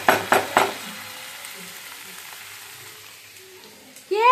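Tomatoes frying in a pan for chicken darbari. Three sharp clatters open the clip, then a quieter sizzle follows that fades gradually, and a sudden high chirping sound cuts in at the end.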